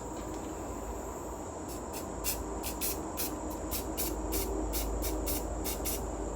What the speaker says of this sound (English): press the spray paint cap really lightly, just like that